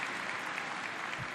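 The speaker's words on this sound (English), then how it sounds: "clap to that." A brief, fairly faint burst of crowd applause sounds in the BlizzCon 2018 opening ceremony hall, an even wash of many hands clapping with no speech over it.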